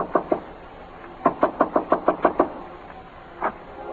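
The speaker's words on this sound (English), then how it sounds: "I stopped in front of room 300 and knocked." Knuckles rap on a hotel room door in two quick knocks, then a steady run of about eight firm knocks, then one last single knock, close and clear with no voices.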